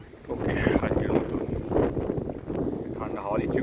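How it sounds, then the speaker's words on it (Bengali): Strong, cold wind gusts across a mountain campsite during snowfall and rain, a loud buffeting roar that rises and falls against the microphone, with talking mixed in. "ঠান্ডা হাওয়া দিচ্ছে খুব।"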